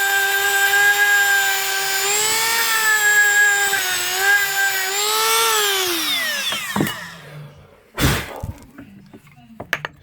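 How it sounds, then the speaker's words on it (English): A power tool whines at a steady pitch while grinding out a canoe seat support, then winds down. Afterwards come a few sharp clinks and knocks. "So I've ground it out"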